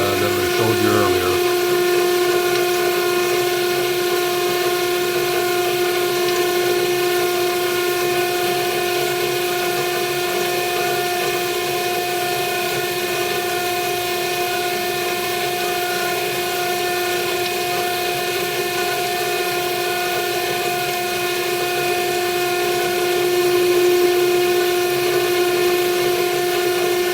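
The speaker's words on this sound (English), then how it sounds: "as we're coming in with the boring bar" A boring bar cuts a receiver bore on a machine, giving a loud steady tonal whine and hum that holds almost unchanged throughout, with a rougher grinding start.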